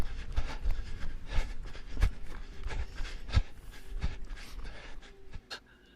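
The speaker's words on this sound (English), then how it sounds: "hear his huffing and puffing. That breathing." Heavy huffing and puffing breath of a runner, steady rhythmic panting pulses with low thumps, close and fairly loud with no talking.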